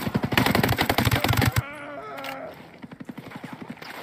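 Gunfire rings out in a shooter video game, with loud rapid bursts of shots up front, then a short vocal sound and a quieter run of shots.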